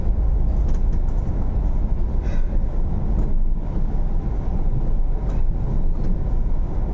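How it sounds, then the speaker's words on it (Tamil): Train passing by in Singapore, a loud steady rumble and roar that stays constant throughout, close by with rattling clatter on top and no talking. "ட்ரெயின் போகுது."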